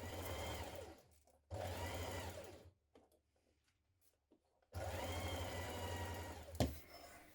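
A sewing machine runs in two steady bursts of stitching along a shirt yoke, separated by a quiet pause filled with faint handling clicks, close and fairly loud with a steady motor whir.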